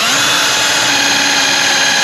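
Power drill running continuously at full speed with a steady high whine, loud and close, on a rural building job in Portugal; the drill bit seems faulty.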